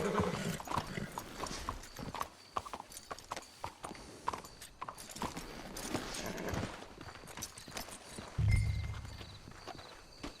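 In Red Dead Redemption 2, horses' hooves clop in an irregular walking rhythm, soft and moderately close, with a brief snort or whinny near the end.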